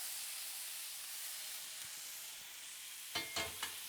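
Spicy garlic meatballs searing in a hot pan, a steady broad sizzle with a few sharp clatters near the end.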